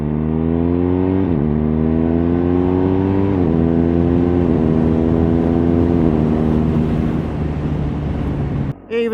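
A BMW R1250R boxer-twin motorcycle accelerates hard on the road, its close, steady engine drone rising in pitch through several quick upshifts, with wind rush behind it.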